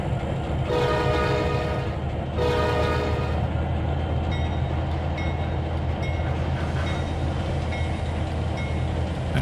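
Trains rolling on tracks in Trainz 2022, a steady loud rumble with wheel clatter throughout and a sustained horn blast sounding early on, no talking.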